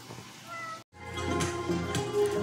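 A cat meows at close range, a couple of clear drawn-out calls broken by a short silent gap, with no talking over them.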